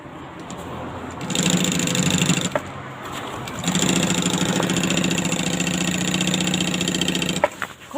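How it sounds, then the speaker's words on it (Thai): A sewing machine stitches a rounded, curved seam with a steady mechanical whirring hum in two long runs, a brief stop between them as the fabric is turned, no talking. "เย็บเข้ามุมนะคะ วิธีเย็บปอก"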